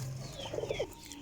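A racing pigeon gives a short, low coo of a few pulsing notes against a noisy background.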